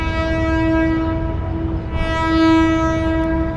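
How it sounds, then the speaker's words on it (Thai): Trains passing each other at Bang Sue Central Station in Bangkok, with a loud, sustained horn tone that holds steady, dips briefly and swells again over a continuous low rumble of rail traffic. "นี่จะสังเกตเห็นว่ารถไฟกำลังสิสวนกันทุกคน"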